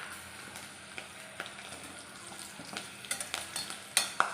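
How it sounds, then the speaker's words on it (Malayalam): Chillies in hot deep-frying oil for beef dry fry hiss steadily, with sharp crackling pops that grow more frequent and louder toward the end, heard close up. "മുളക് എപ്പോൾ ഇട്ടാലും ഈ പൊട്ടിത്തെറിക്കും."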